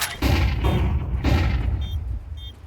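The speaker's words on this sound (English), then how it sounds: "Deploying flashbang." Flashbang grenade bursts in Counter-Strike 2, several close booming blasts in quick succession that fade into a ringing tail.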